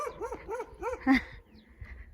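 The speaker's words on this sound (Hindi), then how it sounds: "देखो गाइस, ये कुत्ता कैसा भौंक रहा है।" A violent guard dog kept to fend off monkeys in a mountain area barks and yelps in a rapid burst of four or five close, sharp calls, then whimpers more faintly.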